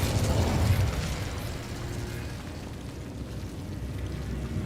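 A Confringo fire spell in the video game Hogwarts Legacy, a loud blast up front that rolls out into a long, noisy rumbling crackle, with no voices.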